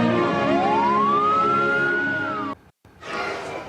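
An ambulance siren in a large convoy wails in one long rising-and-falling sweep, loud and fairly close, then cuts off abruptly before a brief noisy burst, with no talk.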